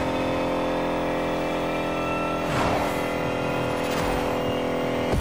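A quiet electric Lotus car accelerates in The Crew Motorfest, a steady layered motor whine with sweeping tonal bands that rise and fall around the middle and end, close and continuous with no voices.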